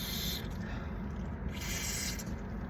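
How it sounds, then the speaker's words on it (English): Nasal spray pumped in a dry indoor room, a few short soft hissing bursts close to the mic over steady low background noise. "nasal spray."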